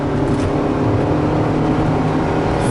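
Engine of a 1999 Acura Integra revving hard in third gear around 4,000 RPM while accelerating, a loud, steady, droning roar filling the cabin with no break.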